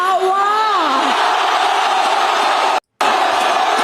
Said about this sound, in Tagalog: na-amaze ako dun sa sigawan ng tao